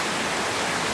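A strong, muddy river swollen in the rainy season rushes past, a dense, loud, continuous roar of churning water with no pauses.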